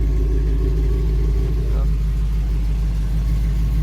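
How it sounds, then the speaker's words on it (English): A 1990 GMC Jimmy's engine exhaust rumbles steadily and loudly at close range, a deep continuous drone with a slight shift partway through, while a voice is faintly present underneath. "you can hear the exhaust on that bad boy."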